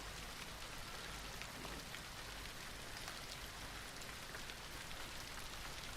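Soft, steady pitter-patter of raindrops falling on a surface, a continuous even ambient rain with no voices over it.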